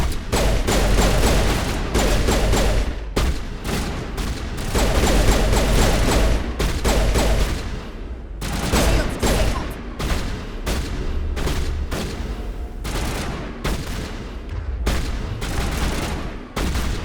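Sustained rapid gunfire in the video game Mass Effect, loud dense bursts of shots rattling almost continuously with brief gaps, no talk over it.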